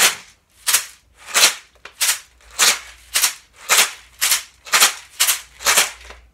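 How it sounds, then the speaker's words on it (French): Homemade bottle maracas shaken in a steady rhythm, about nine bright rattling bursts each lasting roughly half a second, close and fairly loud with no talking. "Alors, ça fait comme ça, je lance mes maracas."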